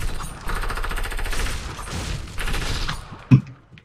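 Chaotic video-game gunfire crackles in dense, overlapping bursts from several directions, loud and steady throughout, ending with one heavy nearby shot before fading.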